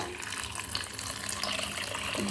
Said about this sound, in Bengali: এবার খানিকটা জল দেব